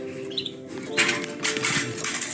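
Small birds fluttering inside an aviary, quick bursts of wing flaps in short clustered flurries, close and fairly clear over a faint background hum.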